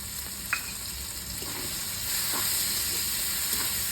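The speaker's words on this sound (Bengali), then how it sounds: "পেঁয়াজটা ভেজে যাবে তাড়াতাড়ি" Onions fry in hot oil, a steady close sizzle with a few faint clicks from stirring, growing slightly louder partway through.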